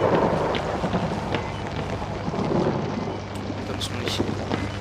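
Rain falls steadily in a thunderstorm in the horror game Outlast, with a low rumble of thunder beneath it and a person talking over the storm.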